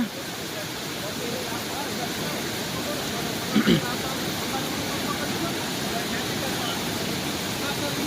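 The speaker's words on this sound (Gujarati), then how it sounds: "પાણી એટલું વહે કે અહીંયા ઊભા પણ દેતું નથી." Monsoon floodwater rushes through a breach in the bank of the Ojat river in Gujarat, making a loud, unbroken broadband roar that stays steady for the whole stretch, with one brief bump partway through.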